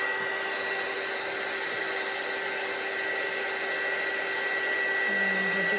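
A heat tool blows steadily while melting embossing powder on paper earrings, a constant close whooshing hum that holds without break for several seconds.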